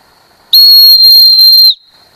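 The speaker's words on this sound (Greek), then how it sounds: "Αυτού του τύπου η σφυρίχτρα που έχει ενσωματωμένο ένα κορδόνι, μπορούμε να προσαρμόσουμε όποιο κορδόνι θέλουμε, παράγει επίσης 95 δεσιμπέλ" A survival whistle with a built-in cord, rated at 95 decibels, gives one loud, piercing steady blast lasting just over a second, shrill and close, with no one talking.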